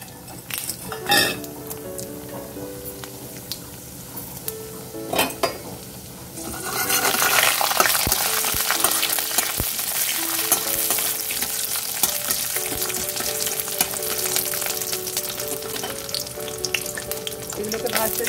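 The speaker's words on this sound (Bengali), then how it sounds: "এগুলোকে ভাজতে দিলাম। ফোড়ন দিয়ে এগুলো ভাজতে দারুণ একটা সুন্দর গন্ধ সেরেছে।" Pigeon pea and black gram dal frying with a spice tempering in a pan, a few stirring clinks and then a loud, steady sizzle that fills the rest of the clip.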